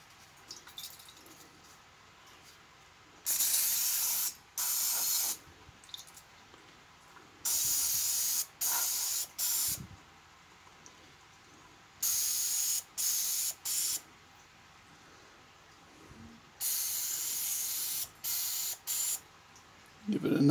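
Vegetable oil cooking spray hisses into silicone egg cups in short, loud, close bursts, several quick spritzes grouped into four clusters separated by quiet pauses, with no talking.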